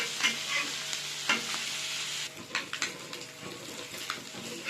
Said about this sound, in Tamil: இப்போ கொஞ்சம் லைட்டாக அடியில் இருக்கிறதுலாம் ஃப்ரை ஆயிடுச்சு